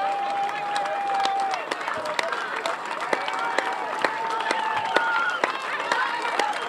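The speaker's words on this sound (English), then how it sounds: "getting a big round of applause from the crowd" A football crowd applauds the Jamaican team after a match, steady distant clapping with scattered cheers and whistles from the stands, while a commentator talks over it.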